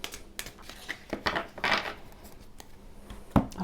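Oversized tarot cards being shuffled by hand, producing a run of soft, close riffling and slapping clatters with a sharper knock near the end, with no talking.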